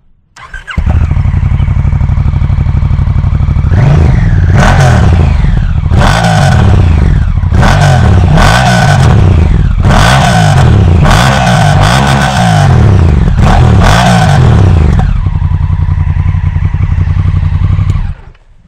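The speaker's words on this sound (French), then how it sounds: "J'adore le bruit de ma moto" A loud Honda Africa Twin motorcycle engine idles, then revs repeatedly in a series of sharp bursts before settling back to a rumbling idle and cutting off.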